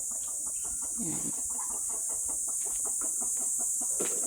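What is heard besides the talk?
domestic chickens clucking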